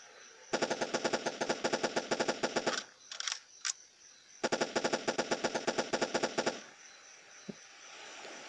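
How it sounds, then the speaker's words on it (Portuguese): Two long bursts of rapid automatic machine-gun fire in the Android zombie shooter Dead Plague: Zombie Outbreak, loud and close, separated by a brief pause with a few clicks, then a single faint click at the end. "vou trocar pra minha metralhadora aqui"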